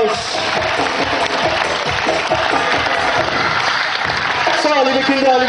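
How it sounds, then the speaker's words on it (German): Audience of children and adults applauding at a knights' tournament at a castle, sustained dense clapping for several seconds, loud and near, with a voice speaking over it toward the end. "Das ist euer Applaus."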